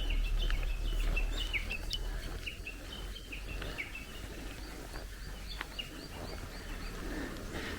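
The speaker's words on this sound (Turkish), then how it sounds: "Kuş seslerini duyuyor musunuz?" Soft, scattered bird chirps repeat over a low ambient hum in a video game, faint and somewhat distant.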